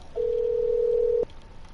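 A phone call placed on speaker gives a single loud steady ringback tone lasting about a second, then cuts off to quiet background.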